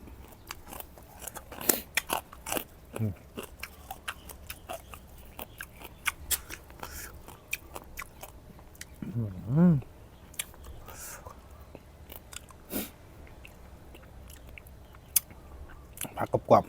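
Close, crunchy chewing of a spicy Thai squid salad with cuttlefish, irregular wet bites and crunches spread across the clip, with a few quiet vocal sounds between mouthfuls.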